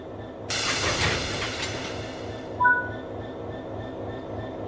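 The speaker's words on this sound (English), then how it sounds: "interact with it as normal and it will uncouple" Railway wagon uncoupling from a locomotive in the Train Sim World 5 video game: a sudden loud hiss of air over a steady rolling rumble, then a single clunk and a fading hiss.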